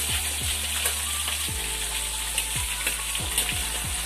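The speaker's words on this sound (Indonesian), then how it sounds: "kita akan masukkan sardin tadi dan goreng dia sederhana" Sardines fry for curry in a pan of hot oil, a steady close sizzle with occasional soft knocks and stirring sounds throughout.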